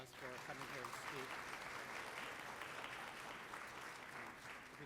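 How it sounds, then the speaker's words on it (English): Quiet, sustained applause from a symposium audience for a lecturer after her talk, sounding somewhat distant; a voice speaks briefly near the start over the clapping. "if we could give her another round of applause for coming here to speak"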